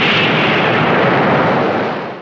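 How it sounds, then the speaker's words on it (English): Movie explosion of dynamite set off by a rifle shot, a loud, dense blast that fills the whole clip with a sustained roaring rumble before starting to fade at the end, with no talking. "Use your rifle. Shoot the dynamite."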